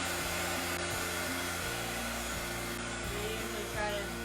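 A heat tool blows steadily and loudly across a chalk transfer board at close range, a continuous airy roar with a low hum and faint clicks underneath.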